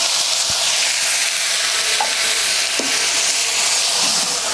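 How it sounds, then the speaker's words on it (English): Onions, diced tomatoes and garlic-ginger paste cook in oil in a Dutch oven on a Kamado Joe grill, giving a loud, continuous, hissing sizzle with a few faint clinks of stirring and no voices. "just mix them all up, sweat them down, add just a tiny bit of salt"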